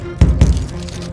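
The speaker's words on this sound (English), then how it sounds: "fumbled with his keys" A couple of quick metallic jingles from a bunch of keys being handled up close, followed by a fading rattle.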